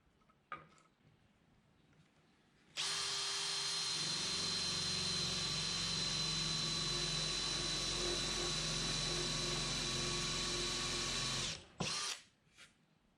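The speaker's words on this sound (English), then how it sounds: "I also want to make sure I drill the holes on the good side of the board" A power drill with a spade bit boring holes in a wooden board spins up and runs loud and steady for about nine seconds, whining at a constant pitch, then stops with a couple of short bursts after.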